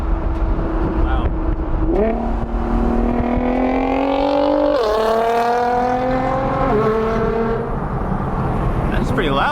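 A loud Nissan GT-R engine revs and pulls through rising gear changes, heard from outside the car, with people talking over it.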